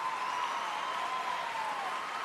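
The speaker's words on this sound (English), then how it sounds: "Florent Amodio leading the applause there on the side." Applause for figure skater Luc Economides after his short program at the Grand Prix de France, a steady wash of clapping from an arena crowd, distant and sustained, without talk.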